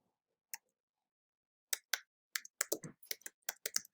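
A location being typed on a computer keyboard, with one isolated keystroke and then a quick run of close, crisp key clicks in an uneven rhythm, in an otherwise quiet room.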